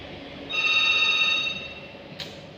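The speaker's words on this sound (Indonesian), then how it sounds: "Angkat telepon dulu." A telephone rings once, a steady high electronic trill lasting about a second over a low room hum, followed by a brief faint click.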